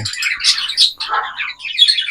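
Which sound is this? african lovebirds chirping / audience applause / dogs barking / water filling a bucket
african lovebirds chirping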